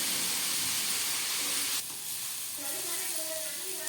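Onions, green chillies and curry leaves hit hot oil for a fish egg curry, giving a bright steady hiss that drops suddenly partway through, then continues as a softer sizzle with faint tonal whines; no speech.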